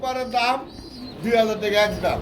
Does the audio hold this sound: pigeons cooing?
yes